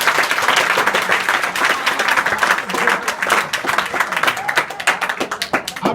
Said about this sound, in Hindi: जो बच्चे यहाँ आए हैं, जो लड़के, उनके लिए एक जोरदार ताली सब लोग बजाएं